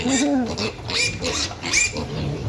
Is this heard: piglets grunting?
yes